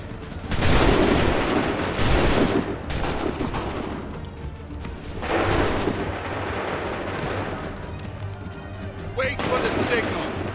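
Musket volleys ring out in Assassin's Creed III, several loud ragged bursts of massed gunfire with crashing echoes, separated by short pauses, while shouted commands and voices carry over the battle.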